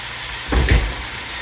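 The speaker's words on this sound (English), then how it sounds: "And you can hear them, they're sizzling" A brief burst of potatoes sizzling in a frying pan rises for a moment, a soft crackling hiss over a quiet background, fading after under a second.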